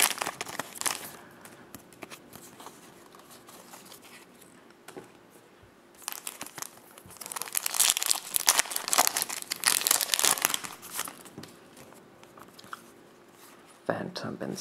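Pokemon XY mini booster pack wrappers are torn open and handled, producing close, sharp bursts of crinkling and rustling plastic that come and go in clusters against a quiet background.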